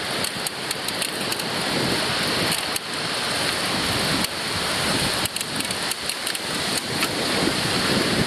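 Big waves of Lake Ontario crash on a beach, a loud, continuous wash of surf with repeated surges and breaking bursts, no voices.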